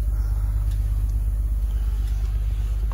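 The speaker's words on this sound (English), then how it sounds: "The engine sounds good." A truck engine idles at an auction inspection, a faint, steady low rumble heard from close by with no other sounds over it.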